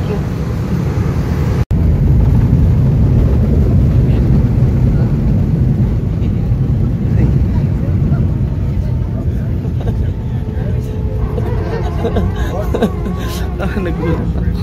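A loud, steady roar from an airplane at Caticlan Domestic Airport fills the whole stretch, with a muffled hum of people murmuring underneath and a brief dropout near the start.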